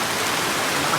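Steady rain pours on an afternoon farm plot with lettuce, a dense, even hiss that fills the whole moment without pause.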